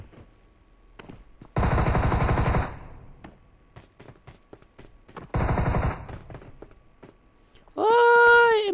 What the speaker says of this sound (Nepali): सडगन पड्काउनु खोज्दैछ।